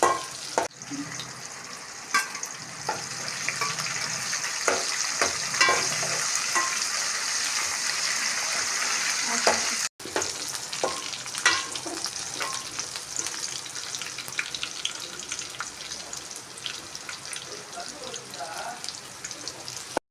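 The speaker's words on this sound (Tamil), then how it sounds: "இப்போ நம்ம வந்து வரமிளகா கருவேப்பிலையும் போட்டுக்கலாம்" Dried red chillies and curry leaves dropped into hot oil with softened onion for chicken, giving a loud sizzle, spatula scrapes and stirring, and a short break before the frying continues more softly.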